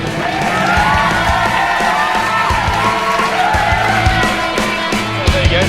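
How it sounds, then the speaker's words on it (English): A crowd cheers, whoops and claps as a driver climbs out of a Caterham R300 sports car, a loud sustained wash of voices and applause lasting several seconds with a few sharper peaks near the end. "Cue round of applause."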